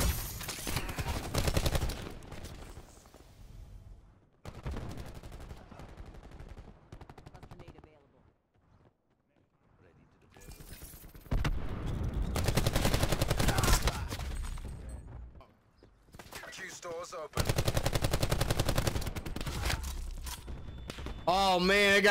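Gunfire in a shooting video game: bursts of rapid automatic shots and volleys come in loud clusters, separated by quiet pauses, with the firing resuming near the end.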